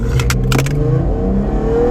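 A Camaro RS with a V6 pulling hard from a standstill toward 60 mph on a street, engine note loud and close, with a steady droning rise and a few sharp clicks early on.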